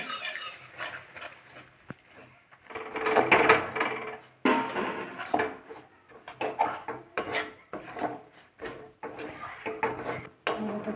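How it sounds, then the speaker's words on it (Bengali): Milk powder frying in hot ghee in a wok while making peda sweets, heard as close, rhythmic scraping and rasping stirs against the pan in uneven bursts, with no voices. "দুধটা দিয়ে আস্তে আস্তে ভেজে নেব"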